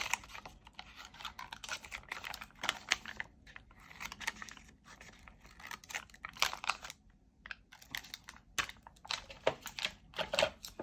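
Scissors snipping and paper rustling while cutting out embossed paper pieces for a junk journal writing board, a quiet, close run of irregular crisp snips and crinkles.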